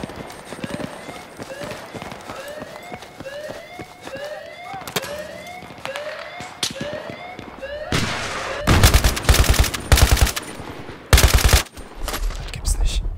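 Bursts of rapid automatic gunfire rattle loudly in the video game Battlefield 3, with rising whooshing tones repeating before the heaviest volleys hit near and hard.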